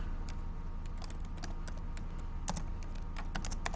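Rapid clicking of keys on a computer keyboard, close and fairly quiet, with irregular bursts of keystrokes over a constant low background hum.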